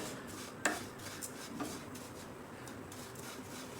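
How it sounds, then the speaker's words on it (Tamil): Vermicelli roasting in ghee while being stirred in a pan for custard kheer kunafah, heard as soft continuous scraping and rubbing with one sharp utensil clink near the start and a few light knocks, close and fairly quiet. "அந்த சேமியாவை போட்டு ஃபுல்லாக அந்த நெய்யிலே ஒரு 2லேருந்து ஒரு 3 நிமிஷம் நல்லா ஃபுல்லாக ரோஸ்ட் பண்ணி எடுத்துக்குவோம்"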